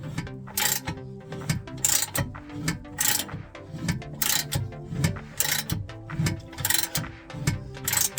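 Ratchet wrench loosening an 18mm bolt holding a bracket on a 2008 BMW X3, a steady rhythmic clicking of the pawl in repeated strokes, close and fairly loud, with no one speaking.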